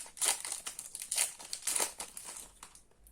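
A foil Yu-Gi-Oh booster pack wrapper is crinkled and torn open up close, with three bursts of sharp crackling followed by fainter rustling.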